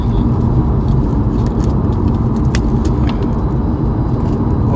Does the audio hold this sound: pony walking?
no